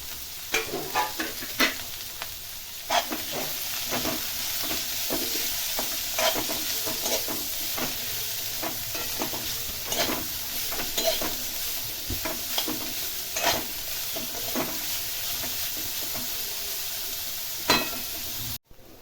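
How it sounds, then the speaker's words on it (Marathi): Bitter gourd, squeezed beforehand, stir-fried in hot oil in a pan: a constant sizzle with frequent scraping spatula strokes, close and fairly loud, with no talking. "आता हे कारलं आपण जे पिळून घेतले ते टाकून घेऊया आणि छान परतून घ्यायचे"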